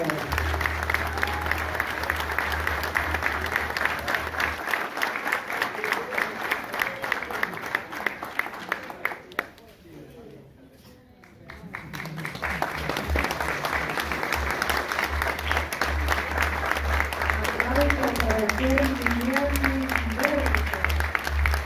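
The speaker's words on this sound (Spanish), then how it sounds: "Renovamos el aplauso" Crowd at a museum anniversary ceremony in Villa Ángela applauding, a dense sustained wash of clapping that briefly dips to near quiet midway, then swells again as a voice talks over it.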